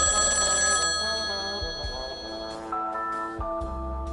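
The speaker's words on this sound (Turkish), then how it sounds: "Beni uykumdan Rukiye'nin acı acı çalan telefonu uyandırdı" A phone rings persistently with a continuous tonal trill, heard over a steady musical backdrop.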